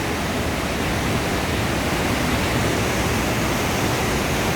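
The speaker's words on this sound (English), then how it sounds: "The water coming out of the cave." Water rushes steadily out of a cave at the natural bridge on the Rogue River, a dense, even roar close by that holds without a break and has no voices over it.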